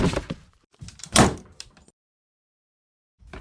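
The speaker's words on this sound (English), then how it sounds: "the guards opened a dingy door and tossed her inside" A dingy prison door is opened by guards in a dramatized fairy-tale scene, giving a few heavy clunks and scrapes close by, followed by a silence and then a faint knock at the end.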